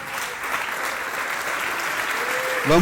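A church congregation applauds during a service, a steady continuous roar of clapping with a voice rising briefly near the end.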